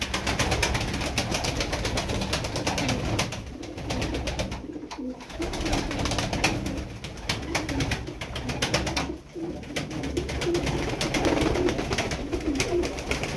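Turkish roller pigeons, a flock of about fifty, coo softly amid steady rustling and flapping, with intermittent gusty noise and a few brief dips in the sound.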